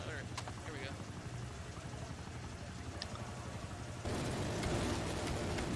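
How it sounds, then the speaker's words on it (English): Chopper gunner helicopter from Call of Duty: Black Ops Cold War on the Cartel map, a steady rotor drone that holds throughout and grows louder near the end, with rapid gunfire bursts mixed in. "Here's my chopper gunner."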